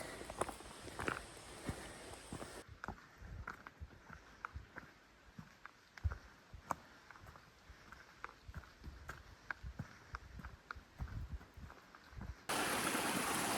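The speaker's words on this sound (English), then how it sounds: "next to this mountain stream" A mountain stream on a hiking trail near Kinsman Notch, New Hampshire, flows with a steady close broadband rush of water. Scattered footsteps and taps sound over it, and the rush grows louder near the end.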